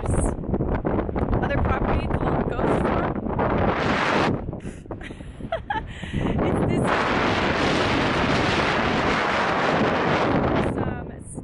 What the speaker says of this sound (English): Also shelter from this brutally cold wind.